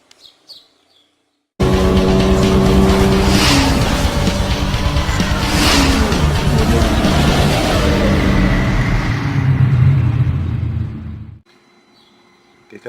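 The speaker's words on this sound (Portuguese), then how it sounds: "Ela está com um barulho muito feio no motor de partida dela, certo?" A Volkswagen car's faulty starter motor cranks loudly with a harsh, grinding whir for about ten seconds, then cuts off abruptly into near silence.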